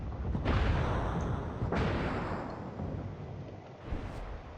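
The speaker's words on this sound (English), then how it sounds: "Oh great, I'm being shot at now." Naval gunfire and shell explosions in World of Warships, with the South Carolina and St. Louis ships, rumble as heavy, sustained booms with two sharp blasts near the start and a lighter impact toward the end, no voices.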